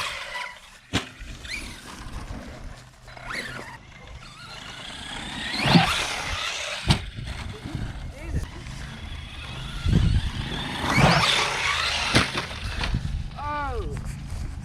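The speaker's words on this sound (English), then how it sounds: "we're gonna hit the jump with the RC car." An RC car runs up and over a homemade wooden kicker jump, with a motor whine, scraping and thumps of landing, up close amid people talking.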